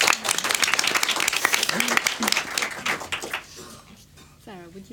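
An audience at a city resilience festival panel claps for a few seconds, the applause thinning out before a speaker's voice takes over near the end.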